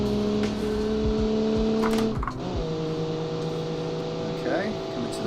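A race car engine in an Automation-built vehicle on the Road Atlanta circuit drones with steady high revs and a sharp shift mid-clip, while someone talks over it.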